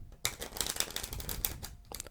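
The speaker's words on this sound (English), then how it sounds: "I start the trick by giving the deck what is known as a riffle shuffle." A deck of cards is riffle shuffled up close, a quick fluttering run of crisp paper clicks lasting about two seconds, ending with a couple of sharp snaps.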